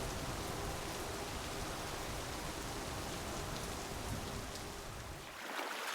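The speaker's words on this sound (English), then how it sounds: "the rain continues to fall" Steady, dense rainfall hisses evenly as a broad wash, continuing unbroken until it briefly thins and shifts near the end.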